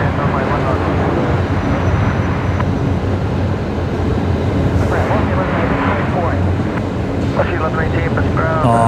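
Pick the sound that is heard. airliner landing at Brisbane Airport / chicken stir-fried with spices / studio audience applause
airliner landing at Brisbane Airport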